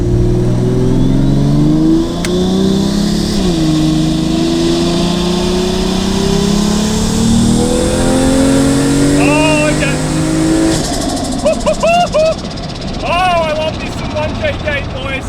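Home-built single-turbo 1JZ Toyota Soarer with a shifted automatic pulling hard on the street, its engine note rising loud and close, then dropping in pitch with a gear change before climbing again, with turbo whistles and flutter later on.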